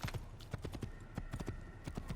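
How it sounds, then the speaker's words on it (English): Horse hooves gallop in a fast, steady clip-clop rhythm in Assassin's Creed, close and continuous, with no talk over it. "Oh my, that is a big gallop."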